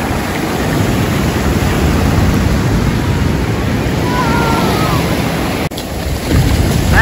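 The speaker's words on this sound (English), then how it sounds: "I'm about waist deep in the water right now, but we got some big waves coming." Big ocean waves break and churn continuously around someone standing waist-deep in the surf on a beach day, a loud, dense roar with a brief dip near the end before the wash swells again.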